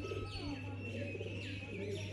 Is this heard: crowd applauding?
no